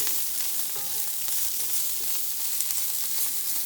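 Parsnips cooking in butter in a pan, producing a bright, continuous crackling sizzle with a few faint utensil taps, close and steady with no voices.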